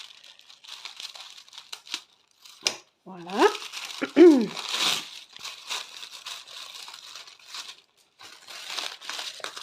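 Tissue paper crinkles and rustles in bursts as something is unwrapped, with a brief spoken word and scattered handling noises.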